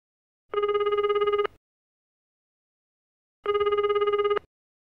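A telephone rings twice with electronic warbling tones before a call to a hotel. Each ring lasts about a second and the two are separated by a long silent gap. The sound is clear and loud, with no talk.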